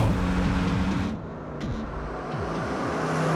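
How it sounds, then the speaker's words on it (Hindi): Car driving along a road in a Hindi-dubbed film scene, a steady engine hum with repeated shifts in pitch and road noise, fairly close and continuous, with no voices over it. "पीछे देखो भाई, लगता है वो गाड़ी अपना पीछा कर रही है।"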